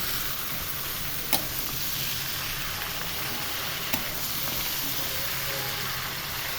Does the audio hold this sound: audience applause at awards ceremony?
no